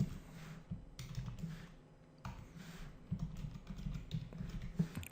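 Code is being typed on a computer keyboard, soft rapid key taps in irregular bursts, close but quiet, with no talking.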